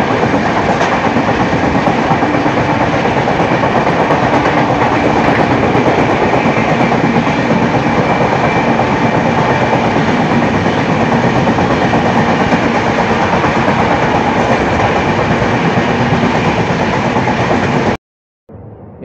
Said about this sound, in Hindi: ये शायद कोई गुड्स ट्रेन होगा आ रहा है जो